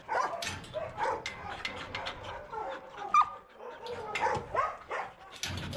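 Dogs at a Russian animal shelter bark, yip and whimper in a busy stretch of overlapping calls, close and fairly loud, with a voice faintly mixed in.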